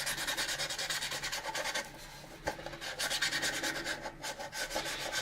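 Steady back-and-forth rasping of sandpaper on the yellowed plastic deck of an AMT 1983 U.S.S. Enterprise model kit, close and continuous with brief pauses, no talking.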